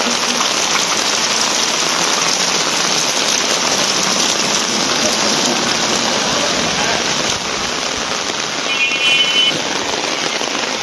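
Steady rain falls without a break on a rainy day outdoors near home, a dense close hiss that stays loud and even throughout, with a brief faint tonal sound near the end.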